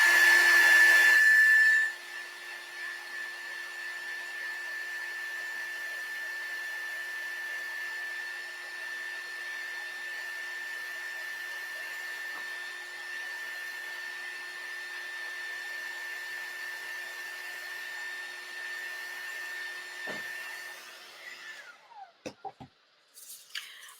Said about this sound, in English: So now I'm going to take my heat tool and dry mine.